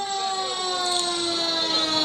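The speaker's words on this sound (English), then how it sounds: "Listen to the sirens wail." A Bardstown or Nelson County Fire Department truck siren wails steadily and loudly in a Christmas parade, a sustained rising-and-falling tone heard on its own.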